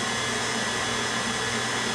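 Electric mixer whirring steadily through cake batter of sugar, butter and eggs for an iced lemon pound cake, a loud continuous motor drone with no pauses.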